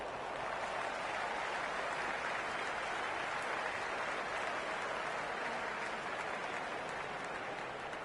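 Steady, dense crowd roar from a video game cricket stadium in Cricket 26 during a T20 World Championship semi-final between England and West Indies, a continuous wash of cheering and applause throughout at even loudness with no clear voices.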